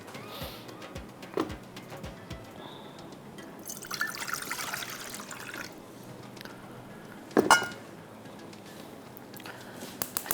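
Cooking oil poured into a pot with cinnamon and cardamom, a soft trickle and splash building in the middle, with a few sharp clinks and taps of utensils against the pot.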